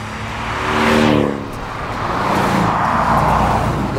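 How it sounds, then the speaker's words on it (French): A Porsche 718 Cayman S with its four-cylinder engine sweeps past, the engine note rising to a loud peak and falling away, followed by a second softer swell of engine and road noise. "un moteur 4 cylindres."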